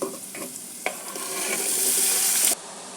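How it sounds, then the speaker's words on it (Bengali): A few clattering stirs and knocks, then a loud hiss as taro pieces hit hot oil in a pan, sizzling steadily before cutting off abruptly. "ভাজা হয়ে গেছে এখন আমি কচুগুলি দিয়ে দেবো"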